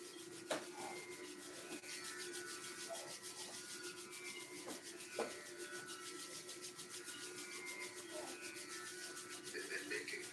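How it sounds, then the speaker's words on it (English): Palms rubbed together briskly: a soft, steady rhythmic swishing friction, close and quiet, continuing without pause throughout. "Rub the palms briskly."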